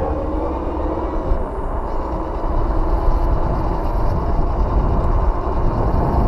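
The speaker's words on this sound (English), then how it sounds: "Garbage truck." A garbage truck passes on a street, its loud, steady engine rumble and mechanical rattling filling the scene without pause and swelling slightly partway through.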